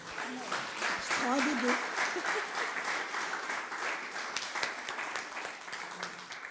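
A church congregation breaks into sustained applause, dense and steady clapping filling the room for several seconds, with a brief sung or spoken voice rising above it early on.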